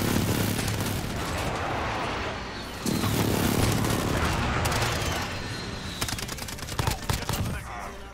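Striker 45 submachine gun with a 25-round magazine firing in Call of Duty, long rapid bursts of close, loud automatic fire broken by brief pauses, with a choppier string of shots near the end.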